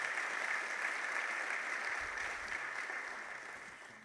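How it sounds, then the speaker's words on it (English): A crowd applauds a State's Attorney during a county executive's first 100-day address, a fairly faint, steady round of clapping that gradually fades toward the end. "Let's give her a round of applause."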